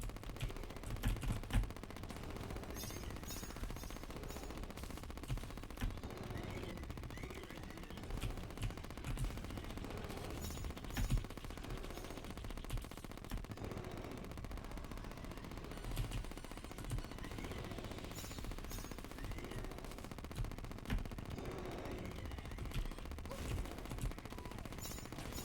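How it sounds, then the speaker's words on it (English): Weapon fire in the game Terraria during a boss fight with the Eye, rapid repeated shots crackling continuously over a busy game soundscape, steady and moderately loud throughout. "So now I just got to keep shooting."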